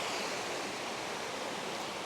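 Stream water flowing downhill in a village near Vagamon, a steady, even rush of water, fairly faint and without any voices.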